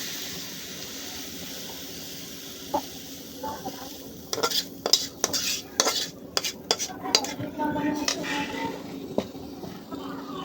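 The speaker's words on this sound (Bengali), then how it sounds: "ভালোভাবে নেড়ে চেড়ে দিয়ে যাতে রসুন আর পেঁয়াজের সাথে শাকটা মিশে যায়।" A metal spoon stirs pumpkin greens frying with garlic and onion in a pan, making repeated scraping clinks against the pan that start a few seconds in, over a faint sizzle.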